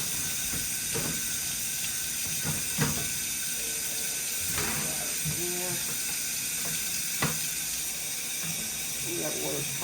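Hot tap water runs steadily into a kitchen sink during washing up after handling raw meat, a constant close hiss with occasional clinks and splashes, no voices over it.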